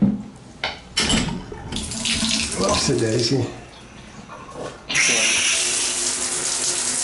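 Shower water runs into a bathtub in an apartment bathroom and drains, a steady rushing spray that swells loud near the end, with a voice speaking briefly over it early on.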